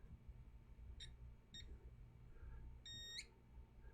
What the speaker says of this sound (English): You heard that beep, but it went up and away. That was a cap charging, so that's okay.